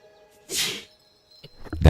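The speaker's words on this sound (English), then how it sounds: "That was what we call a sneeze." A single person sneezes once, a short breathy burst about half a second in, followed by a brief quiet gap and then faint clicks and the start of other sounds.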